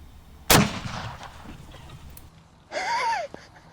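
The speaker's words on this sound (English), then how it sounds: "We're gonna shoot it with the slug, see what happens." A single loud shotgun slug blast fired into a target, a sharp close crack with a short decaying tail, followed later by a brief whistling, warbling sound.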